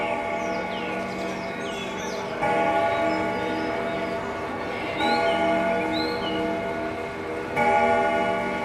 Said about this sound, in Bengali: ঘড়িতে ঢং ঢং করে 10টা বেজে উঠল।